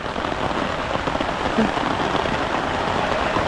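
Heavy rain pours steadily, a dense hiss of drops drumming on surfaces with no break.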